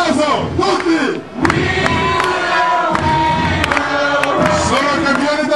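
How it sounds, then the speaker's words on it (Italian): A stadium crowd at an Italian team athletics championship final cheers and shouts loudly, a continuous roar with applause and whoops, while an announcer's voice carries over the noise. "Ricco applauso tutti."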